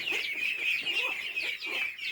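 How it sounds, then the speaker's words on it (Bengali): A hen laying an egg clucks in a run of soft, repeated calls over a high steady hum, faint and a little distant. "আর মুরগি ডিম পাড়তেছে"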